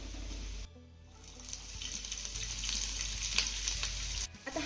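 Chopped onion frying with garlic in a pan: a steady hiss and sizzle that drops briefly when the onion goes in, then builds again with soft stirring scrapes, heard close and without talk.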